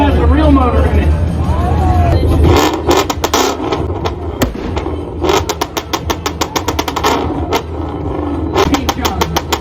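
A car engine revs hard at a flame-spitting exhaust competition, growling through a tuned exhaust with a rapid series of sharp pops and crackles, heard under crowd chatter and talk.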